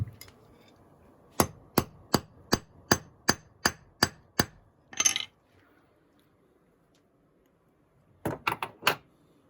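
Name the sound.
hammer smash test on coated bullets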